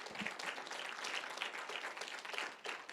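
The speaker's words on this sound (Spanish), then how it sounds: "Denle un aplauso al Señor" A church congregation claps in continuous applause for several seconds, fairly faint and steady with scattered individual claps.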